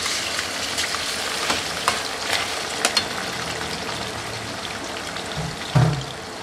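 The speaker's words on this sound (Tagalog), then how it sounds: "Ngayon po, ipiprito na natin yung karne." Meat frying in a pan for a Filipino shrimp-paste dish, a steady close sizzle with scattered sharp crackles and a thump of stirring near the end, no talking.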